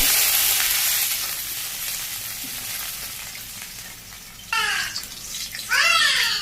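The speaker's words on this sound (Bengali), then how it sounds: "এখানে পেঁয়াজ কুচি দিয়ে দিলাম, হালকা একটু ভালো করে দিচ্ছি" Chopped onions fry in hot oil in a village kitchen with a loud, steady hiss. Two sharper sizzling bursts near the end sound like stirring or fresh contact with the pan.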